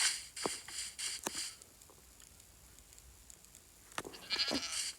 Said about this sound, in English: These goats are crazy.